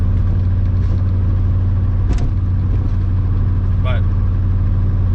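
A VR5 engine running steadily on solid motor mounts, with a constant low droning hum, loud and close, a couple of brief faint chirps over it.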